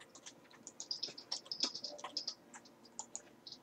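Quick, uneven keystrokes clatter on a computer keyboard, close and fairly quiet, with a faint high chirping in the background and no speech.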